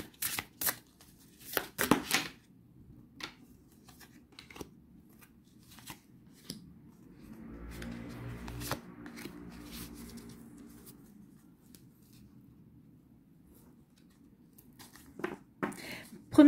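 Oracle cards of an angelic-presence deck are shuffled by hand in quiet surroundings, giving soft riffling and slapping bursts with a longer run of shuffling in the middle.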